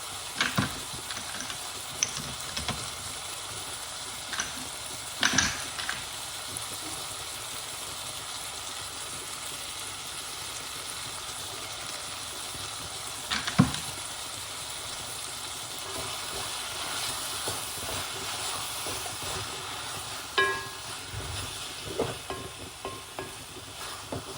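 Sweet potatoes simmering in a pan, a low continuous sizzle and bubble with occasional spoon scrapes and clinks, no talking.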